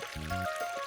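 Tap water runs and splashes steadily in a household setting, a continuous pouring stream close by with a faint tonal hum above it, alone without voices.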